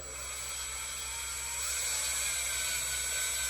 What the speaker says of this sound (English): So, to spin these quick enough to get all the carbon off, I put it in a drill.